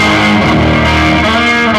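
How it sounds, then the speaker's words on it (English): Electric guitar played through a Catalinbread Formula 506 overdrive pedal into a Talisman reverb, a warm, distorted sustained tone with ringing chord harmonics, loud and close with no talking. "we've got a basic sound now with a Formula 506 and our Talisman reverb"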